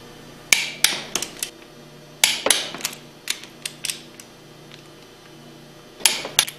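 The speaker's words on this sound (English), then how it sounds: "Torque the discharge manifold bolts to 30 foot-pounds" A torque wrench tightens the discharge manifold bolts on a Hypro 2535S triplex plunger pump, giving sharp metallic clicks and ratcheting in short bursts with pauses, close up and without talk.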